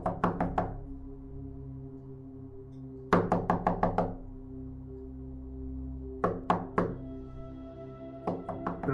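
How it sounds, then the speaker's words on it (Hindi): Loud knocking on a gate in an animated horror story comes in sharp bursts of rapid heavy raps, four or five blows per group, with pauses between, close and resonant over a low sustained drone. "तभी उसे ज़ोर ज़ोर से आवाज़ आने लगती है गेट खटखटाने की।"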